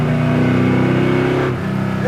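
A 1968 Chevrolet Chevelle Malibu V8 pulls steadily at around 4,000 rpm while driving, a loud, continuous engine drone with harmonic layers that dips briefly then resumes, with a voice talking over it.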